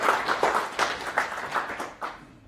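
Audience applause welcoming a product manager from Skyscanner to the stage at a tech meetup on IoT and artificial intelligence, a short, fairly light burst of clapping that tapers off over a couple of seconds.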